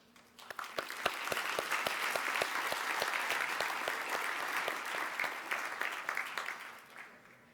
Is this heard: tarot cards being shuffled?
no